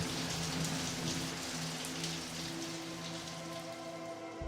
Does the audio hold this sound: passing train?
no